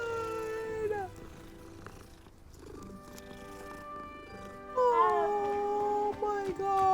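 A cat being petted in a video game gives short purring, mewing calls with bending, gliding pitch, broken by quieter gaps and a low hum, fairly faint, with game sound and talk around it.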